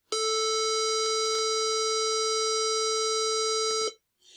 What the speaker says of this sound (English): So that's what a square wave would sound like.